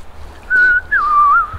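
A person attempting to whistle outdoors while wild camping in a forest, a loud close wavering tone in two short bursts with no talking.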